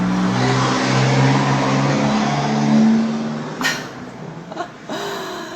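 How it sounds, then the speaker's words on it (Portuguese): Trucks loaded with grapes pass by on a road, a loud close engine rumble and drone that fades as they go, followed by a few fainter knocks and swishes. "Vão passando os caminhões, deixa que passe."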